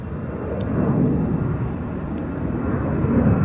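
An airliner departs from Schiphol's Polderbaan runway, a steady, distant-sounding low jet roar that holds at an even level throughout with no voices over it.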